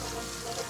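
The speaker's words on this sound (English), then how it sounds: "Just let the cold water run for a minute or two" Cold water runs steadily from a kitchen tap onto boiled potatoes to cool them, a continuous broadband rushing hiss at close range, with no voices.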